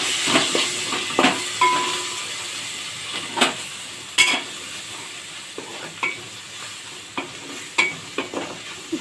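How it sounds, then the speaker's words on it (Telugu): Chopped onions and ginger fry in a pan for a tomato paneer curry, with a soft steady sizzle broken by frequent sharp scraping stirs and clinks of a spoon against the pan, close up and without talking. "ఉల్లిపాయ ముక్క అయితే పూర్తిగా వేగుతుంది ఇప్పుడు కొంచెం అల్లం వేస్తాము"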